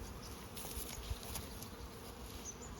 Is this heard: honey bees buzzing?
yes